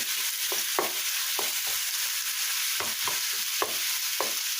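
A spiced enchilada mixture sizzles steadily in a pan on medium heat while a wooden spoon stirs and scrapes it in short, irregular strokes.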